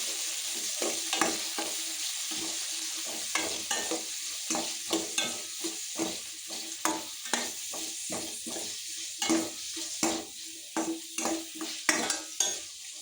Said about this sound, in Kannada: ನೆಕ್ಸ್ಟ್ ಈರುಳ್ಳಿ, ಟೊಮೆಟೊ, ಕಾಯಿ ಮೆಣಸನ್ನು ಆ್ಯಡ್ ಮಾಡಿಕೊಳ್ಬೇಕು. ಇವೆಲ್ಲವನ್ನು ಚೆನ್ನಾಗಿ ಫ್ರೈ ಮಾಡಿಕೊಳ್ಬೇಕು.